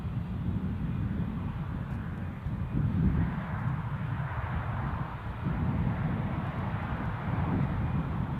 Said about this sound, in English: this British Airways A319 that you are looking at. Pushing back